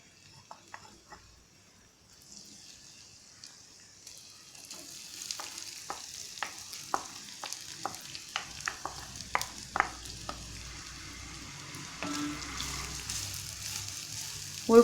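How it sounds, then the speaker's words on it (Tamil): Grated mango ginger goes into hot oil in a pan, giving a continuous soft sizzle with a run of sharp stirring clicks and scrapes from a spoon, growing louder toward the end. "இப்போ நான் துருவி வச்சுருந்த இஞ்சியை எண்ணெயில் போட்டு வதக்கி எடுத்துக்க போகிறேன்"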